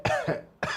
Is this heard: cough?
yes